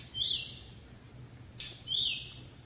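Two short, high chirps from lovebirds, one near the start and one near the end, faint against a quiet background hum.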